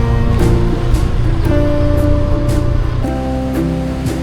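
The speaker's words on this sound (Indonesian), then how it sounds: "melihat ombak besar khas pantai selatan" Big ocean waves break on a south coast beach at Sawarna, giving a loud, steady broadband roar of surf throughout with no pauses, while a faint tonal hum sits low underneath.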